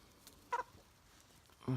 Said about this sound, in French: j'ai une poule qui vient de pondre